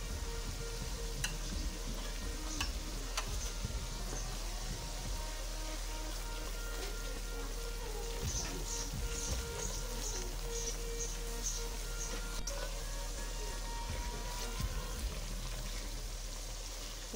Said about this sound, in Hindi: इसे आहिस्ता आहिस्ता चम्मच हिलाते जाएं और मसाले को अच्छी तरह भूनते जाएं।